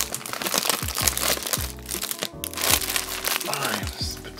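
Plastic wrapper of a Fleer trading card pack crinkling and crackling as it is pried open, continuous close rustling with sharp crunches, while someone talks over it.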